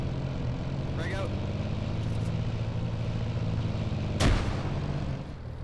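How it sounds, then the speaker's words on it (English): A frag grenade bursts in a military shooter game, one short, loud blast near the end over a steady engine-like drone, with voices talking beforehand. "I'm gonna throw a frag in"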